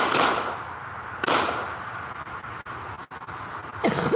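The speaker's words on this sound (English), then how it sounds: "They're real gunshots you're hearing from behind me." Two sharp gunshot bangs crack out near the start and again after about a second, each with a ringing echo, followed by a few softer pops and thuds.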